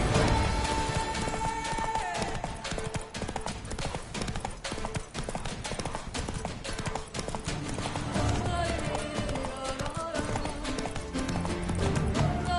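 A horse gallops in the video game The Witcher 3, its hooves clip-clopping in a fast, steady rhythm over game music and ambience, with a brief whinny and some speech mixed in.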